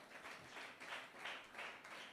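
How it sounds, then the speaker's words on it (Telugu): Congregation at a church service clapping to praise God, faint and distant, swelling in rhythmic bursts about every third of a second with no talk over it. "చప్పట్లు కొట్టి దేవుని స్తుతిద్దాం"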